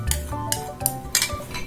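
Beef being mixed with vinaigrette in a bowl for salpicón de res: metal utensil clinks and scrapes against the bowl in irregular strokes, close and clear, with no voice.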